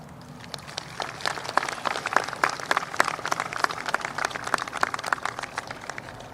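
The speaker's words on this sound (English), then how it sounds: "can they please hear a round of applause?" Graduation ceremony audience applauding, a dense stretch of many hands clapping at a moderate distance, steady throughout with no talking.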